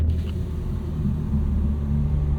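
A 2025 BMW M4 CS (G82) with its S58 engine driving in a low gear on an open road with the windows down, giving a steady, loud low rumble that holds throughout with no talk over it.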